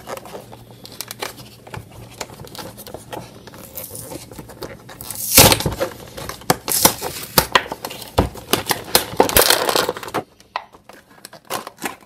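Shopkins Happy Steps Dance Studio secret shop toy packaging being opened, with scattered crinkling, tearing and tapping of plastic and cardboard, louder bursts in the middle, close up and without speech.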